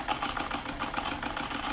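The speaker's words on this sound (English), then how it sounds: "It's just a brilliant little steam engine." Small live steam engine aboard a radio controlled model boat, running steadily with a fast, even mechanical chatter that stays close and constant throughout.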